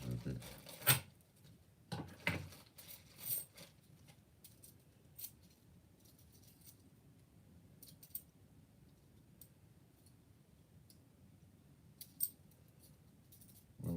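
Several crisp scissor snips spaced out over a quiet background, with faint rustling and small clicks between them.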